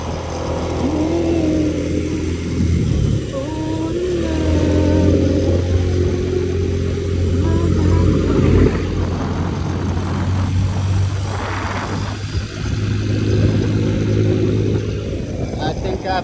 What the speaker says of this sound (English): I can ride in the mountains with a motorbike.